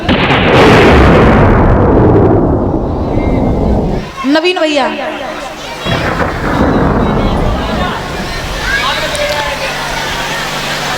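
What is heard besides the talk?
thunder during a storm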